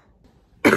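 A single sharp cough from someone with a cold bursts out loudly after a near-silent moment.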